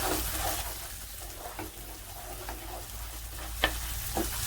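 Bulgur roasts with tomato paste in a pan, giving a continuous soft sizzle with a few faint scraping clicks from stirring scattered through it.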